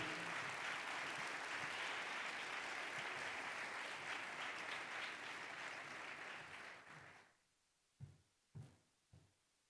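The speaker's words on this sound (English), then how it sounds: "Keep clapping." Sustained applause from an audience at a diplomatic anniversary award ceremony in Kenya, loud and steady for about seven seconds before fading to a few scattered, isolated claps.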